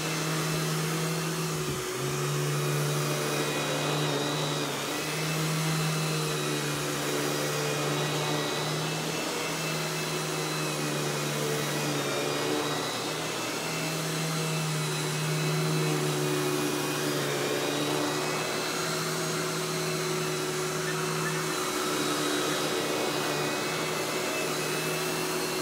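Royal Power Team 4650 canister vacuum running steadily and loud throughout, a constant motor drone with a strong low hum and airy high whine, with no talk over it.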